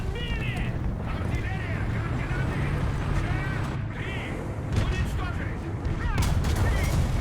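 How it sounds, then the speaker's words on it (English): Machine gun fire from a T-62 tank in War Thunder clatters in rapid bursts amid battle noise. The fire sits under a voice talking. "Let me machine gun him."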